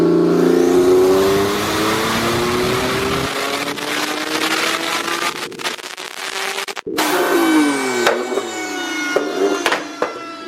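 A heavily modified turbocharged Nissan 370Z with anti-lag revs hard in loud rising sweeps, then drops into choppy popping bursts and quick stabs as the turbo spools, close and without talk.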